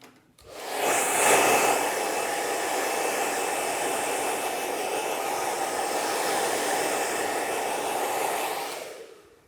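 A hair dryer blows cut hair off a client after a haircut in a barbershop, a loud, steady broadband whoosh that switches on, holds evenly for several seconds close by, then cuts off.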